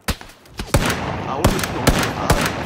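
Gunfire in PUBG Battlegrounds during a three-player squad match: a sharp burst, then a string of loud, evenly spaced shots over steady ambient game noise.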